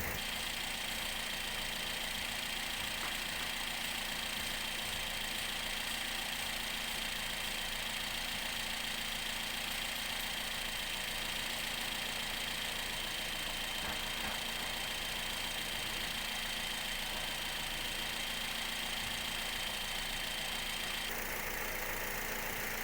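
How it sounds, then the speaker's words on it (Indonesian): Toyota Vios engine idling on a competing brand of fuel, a constant, unbroken drone with faint hiss that runs steadily, with a small shift near the end and no talking. "Dan suara mesin dengan brand X adalah seperti ini."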